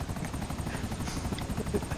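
An aircraft in a video game gives off a steady, low rhythmic chopping drone, faint and continuous, with no talk over it.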